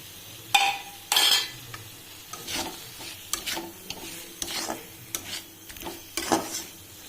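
Pointed gourds are stirred into a hot pan of curd-based curry, with loud scraping and clinking utensil strokes in uneven bursts over a faint background sizzle, close by and free of talk.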